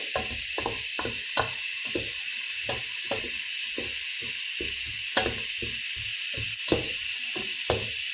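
Ingredients for tas kebabı roasting in a pan: a constant bright sizzle and hiss under a regular rhythm of low scraping strokes, about two per second, as the pan's contents are turned.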